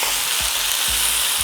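Diced pork cubes fry with onion and garlic in a hot pan for hardinera, a dense, close sizzle with a few soft thumps of stirring in quick succession.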